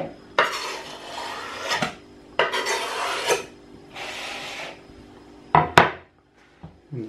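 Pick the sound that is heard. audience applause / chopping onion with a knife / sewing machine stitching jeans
chopping onion with a knife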